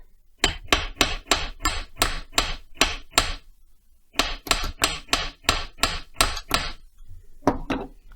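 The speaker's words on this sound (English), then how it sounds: "You just get the ball peen hammer just to straighten it up." Sharp ball peen hammer blows on metal while straightening a replica engine crankcase part, a steady run of about a dozen strikes, a short pause, then another quick series, close and loud.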